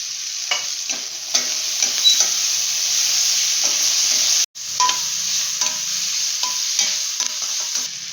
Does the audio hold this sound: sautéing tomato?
yes